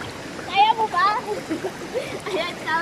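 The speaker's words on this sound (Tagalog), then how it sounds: "Agos ng tubig" Water rushes and splashes steadily at Inuman-banog Falls, a loud continuous wash under excited voices talking and calling out near the camera.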